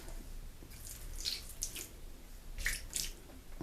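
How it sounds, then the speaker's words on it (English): Water, about a quarter cup, splashes into a pan holding a seasoned steak, producing short, light drips and splashes close by in a quiet kitchen. "we're going to add a little water"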